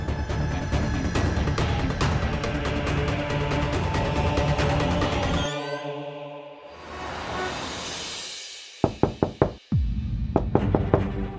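Knocking on a door, heard as a burst of several sharp, loud raps near the end, following a long stretch of dense music-like sound.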